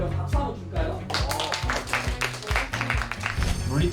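A group clapping together in a steady, moderately quick rhythm, close by and fairly loud, with faint voices mixed in.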